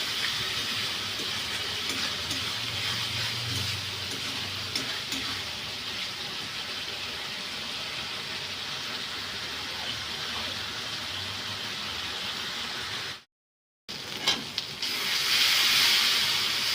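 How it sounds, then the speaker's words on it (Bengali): Masala hisses steadily as it is sautéed in a pan with a little water, a continuous sizzle that cuts out briefly near the end and then returns slightly louder. "অল্প একটুখানি জল দিয়ে আবারও আমি ভালো করে কষে নেবো"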